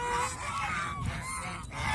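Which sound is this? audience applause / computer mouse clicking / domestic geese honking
domestic geese honking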